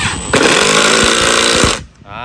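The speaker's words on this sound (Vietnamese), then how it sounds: "Rất là ngon lành cho cây máy bắn vít ha." A Milwaukee 3454-20 cordless drill driver spins up close and loud in one steady, high-pitched motor whir lasting about a second and a half, then winds down.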